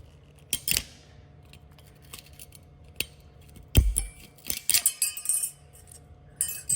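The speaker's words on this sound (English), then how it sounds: "Just pop them out with a screwdriver and pop them back in." Metal brake pad clips on a 2014 Jeep Cherokee Latitude are pried out with a screwdriver, giving scattered sharp metallic clicks, scrapes and small clinks up close.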